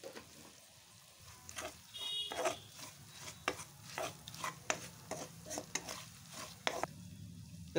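Chilli powder frying in oil for a Telangana spicy garlic powder, stirred with a spoon in a pan: quiet sizzling under a string of sharp scraping and clinking stirs, steady and close.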